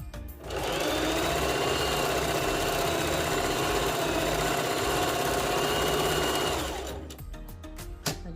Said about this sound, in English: some people make a knot, but I like to sew it, so I'm gonna go ahead and sew it